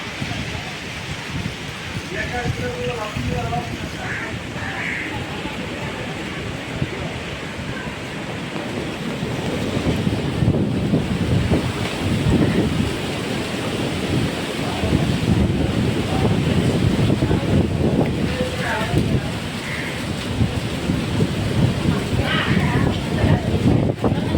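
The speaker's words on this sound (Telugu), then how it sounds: "చూడండి చాలా విపరీతమైన గాలి అనమాట" Strong summer gusty wind buffets and roars, growing heavier in the second half, with occasional faint bird calls in the distance.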